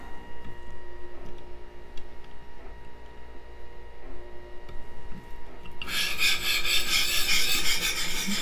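A USMC KA-BAR knife blade rasps steadily against a sharpening stone in close, repeated strokes, growing harsher and brighter toward the end.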